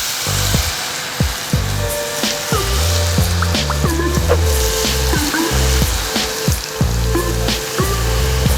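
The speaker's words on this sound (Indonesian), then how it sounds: "Sisa adonan tempuranya kita akan goreng juga, kita kayak bikin tenkatsu atau remahan tempura ya." Leftover tempura batter dropped into hot oil to make crispy tempura crumbs, giving a steady, loud sizzle and crackle with scattered pops throughout, close by and without talk.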